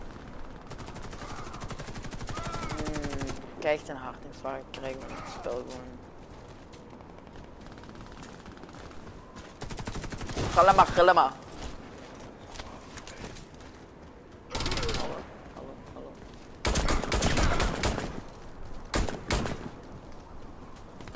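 Gunfire in the shooter Warface comes in loud, dense bursts separated by quieter gaps, with automatic rattles clustered toward the end, while a player talks excitedly over parts of the action.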